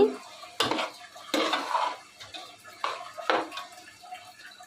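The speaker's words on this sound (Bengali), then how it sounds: "মশলার সাথে খুব সুন্দর করে নেড়ে চেড়ে একটু ভেজে নিতে হবে" Broken rice stirred and fried with spices in a pan, heard as several close, distinct scrapes and clinks of a utensil against the pan over a faint background sizzle.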